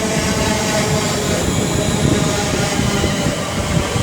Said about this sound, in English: working 1 Alpha 64 from Liverpool Lime Street to London Euston, passing through about 2 minutes late